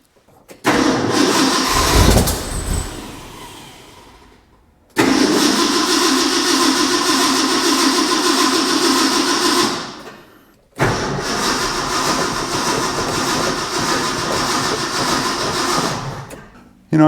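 A Ford F100 pickup engine cranks in three long bursts of rapid, loud starter churning separated by pauses, the engine never catching.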